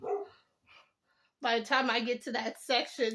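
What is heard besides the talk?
dog barking in the background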